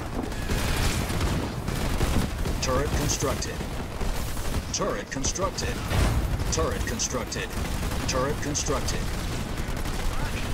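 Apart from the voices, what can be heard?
gunfire in battle, from the video game Halo Wars 2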